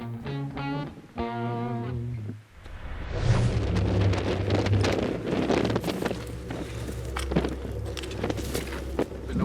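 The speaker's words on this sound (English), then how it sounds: "The wind is screaming at about 30, 40 miles an hour." Heavy rain and gusting wind of about 30 to 40 mph roar steadily close to the microphone outdoors as a front moves through, with low rumbling buffets throughout; a brief burst of harmonic tones opens the clip.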